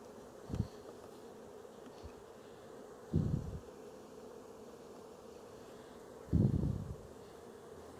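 Honeybees buzz around an opened beehive during a spring split, the faint hum punctuated by a few brief, louder passes of bees flying close by.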